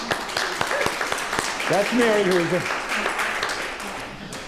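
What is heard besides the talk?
applause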